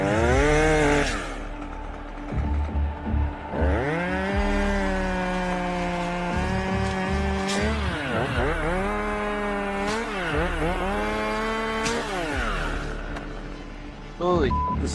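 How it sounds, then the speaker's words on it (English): Chainsaw cutting a tree high up while the operator is climbing, the engine revving and bogging in long sweeps as it bites into the wood, fairly close, with voices talking over parts of it. "So now, chainsaw up, cut from that position."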